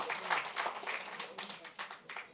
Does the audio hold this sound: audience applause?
yes